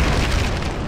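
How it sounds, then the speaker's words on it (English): Grenade explosion blowing up a bridge in Just Cause 3, a loud, dense roaring blast that fills the short moment without a clear onset or tail. "I can blow up this hole. Watch. Throw a grenade."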